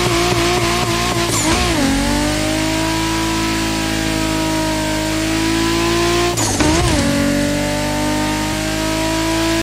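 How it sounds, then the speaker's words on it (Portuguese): Loud, continuous turbo engine roar of a Toyota Supra in the video game The Crew Motorfest revving hard, with two sharp gear shifts where the pitch dips and climbs again, steady and close. "Se liga no som desse Supra."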